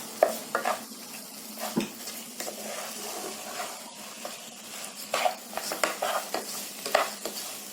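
Rice fried in masala in a pan for tomato rice, a steady sizzle with repeated scraping stirs and clinks of a spoon against the pan, close and clear.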